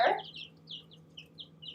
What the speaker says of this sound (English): You can listen to the birds chirp.